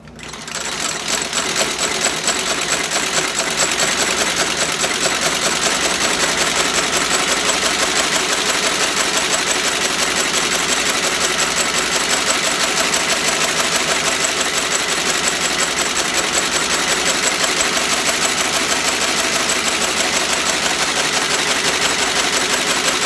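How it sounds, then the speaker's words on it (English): A Landis L outsole stitcher runs continuously while stitching a shoe sole during an Allen Edmonds Strand restoration, giving a loud, steady mechanical whir and rapid clatter that starts abruptly and holds without pause. "this is the Landis L outsole stitcher. Okay?"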